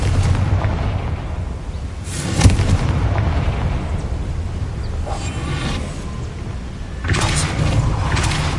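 Confringo explosion spells cast in Hogwarts Legacy: a steady low rumbling roar broken by several loud, bursting blasts spaced a few seconds apart.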